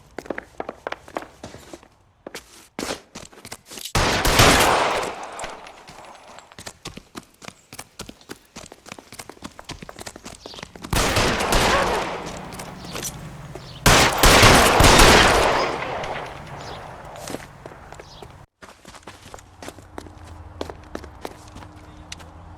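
Gunfire in the 1940s Los Angeles crime game L.A. Noire: bursts of loud, sharp shots cluster in two heavy volleys, with scattered single cracks and footstep-like thuds between them and no talking.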